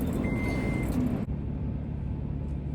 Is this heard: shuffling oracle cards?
no